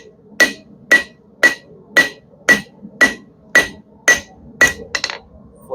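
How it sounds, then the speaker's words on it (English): Blacksmith's hammer striking heated metal on an anvil while squaring stock for a chain hook, nine sharp ringing blows at a steady pace about half a second apart, close and loud, followed by a quicker flurry of lighter taps. "we're just gonna start hammering on it"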